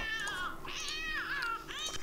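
A cat in the game The Sims 2 meows in a few drawn-out, wavering cries, close and fairly loud over a quiet background.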